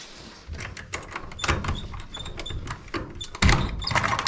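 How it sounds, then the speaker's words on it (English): An old wooden door on a 100-year-old barn is dragged shut by a chain, giving a series of creaks, clanks and scraping knocks with an irregular rhythm and a louder thud near the end. "This helps pull the door shut a little bit."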